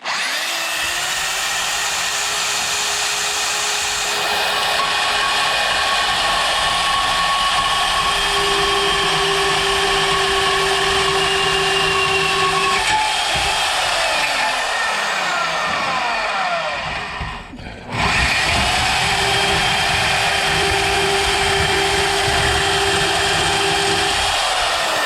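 A power saw blade cuts through a metal trailer gate with a loud, steady whine and a tight buzz held for the whole stretch. The drone briefly drops out near the end, then resumes at full strength.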